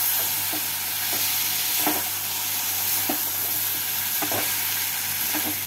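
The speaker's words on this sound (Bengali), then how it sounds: "ঢ্যাঁড়স আর আলুগুলোকে দিয়ে মশলার সাথে ভালো করে মিশিয়ে নেব।" Okra and potatoes stir-fried with spice paste in a hot pan, giving a steady loud sizzle with periodic scraping strokes of a spatula about once a second, no voices.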